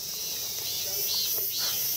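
Insects buzz in a steady, shrill drone at a temple in August, a continuous high-pitched chorus that fills the air with slight swells and no pauses.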